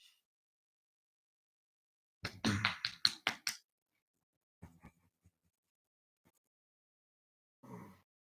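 Kim claps a short burst of hand claps nearby in a quiet garage, followed by a few scattered softer taps and one brief clap-like burst later.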